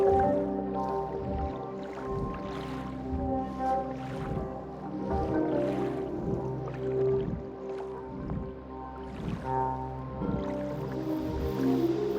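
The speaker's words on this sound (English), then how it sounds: "Now wade into the water to enter the void." Wading into water in The Void game: soft, repeated sloshing and squishing steps through liquid, close and steady over a low droning musical bed.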